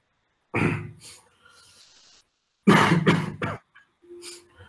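Two bouts of close, harsh coughing, each a cluster of quick hacks, separated by a short quiet pause and followed by softer throat noises.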